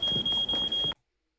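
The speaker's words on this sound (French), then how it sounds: "Arrêtez l'alarme !" Fire alarm in a TV show sounding four rapid, loud, high-pitched electronic beeps in quick succession, then cutting off abruptly into silence.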